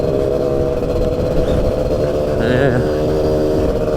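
A motorcycle engine pulls in third gear at 4,200 revs, about 63 km/h, coughing and spluttering. The drone is loud and continuous, with a brief voice over it.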